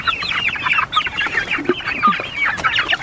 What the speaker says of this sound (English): Everybody needs to be put to bed, namely little chicks.